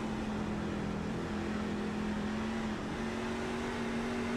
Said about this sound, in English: you can hear him sliding, getting sideways, locking it down